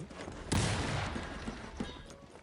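Musket volleys in the strategy game Cossacks 3, one sharp crackling fusillade followed by a couple of fainter shots, with game ambience underneath.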